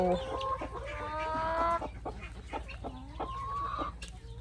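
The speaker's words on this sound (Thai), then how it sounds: "นี่เลยค่ะ แม่ไก่บ้านของเรา" A Thai native village hen clucks and croons close by in a series of short, throaty calls, with other fowl sounds and farmyard ambience behind.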